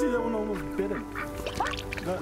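A duck quacks in the video game That Dragon, Cancer, giving several nasal, wavering calls in close succession over a steady background tone, loud and close.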